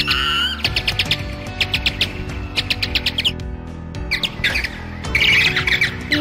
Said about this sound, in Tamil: மரக்கிளையில் உள்ள கூட்டில் இருந்த தூக்கணாங்குருவி குஞ்சுகள் சத்தமிட்டுக் கொண்டிருப்பதை